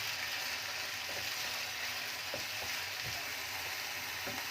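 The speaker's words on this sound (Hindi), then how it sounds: "चिकन के साथ अब हम डाल देंगे प्याज। ये चिकन के साथ प्याज भी हमारे ब्राउन होते जाएंगे।" Onions and chicken fry together in a pan, giving a steady, fairly close broadband sizzle with a few soft stirring clatters and no talking.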